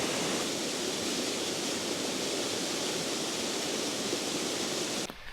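A small waterfall in the Lake District fells gives a steady, dense rushing roar heard from close by, unbroken for several seconds before cutting off abruptly near the end.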